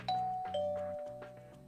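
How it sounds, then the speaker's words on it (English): A doorbell rings with a two-tone ding-dong chime, clear and close, followed by a second ringing chime that fades slowly. "I reached out and pressed the doorbell."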